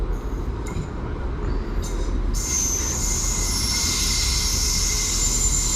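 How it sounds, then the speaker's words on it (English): Irish Rail service from Rosslare Europort to Dublin Connolly pulling into a station, loud rumbling rail noise with sustained high wheel squeal rising over the rolling carriages, no talk. "now arriving in is the 1755 Irish rail service from Rosslare Europort to Dublin Connolly"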